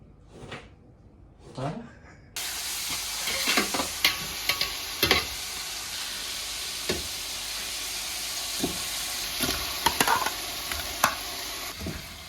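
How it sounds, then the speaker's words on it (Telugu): Chicken biryani being stirred in a pot, with repeated scraping and stirring strokes over a steady sizzle after a quieter start, plus a few sharp clatters of utensils against the pot. "తిప్పు తిప్పు తిప్పు"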